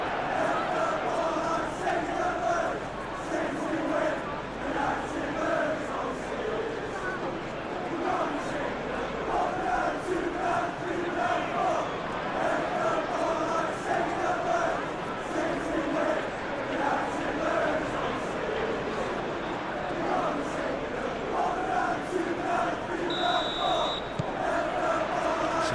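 A capacity football stadium crowd at Manchester City vs Arsenal in the English Premier League roars and chants steadily and loudly throughout, a dense, continuous wash of voices with no letup.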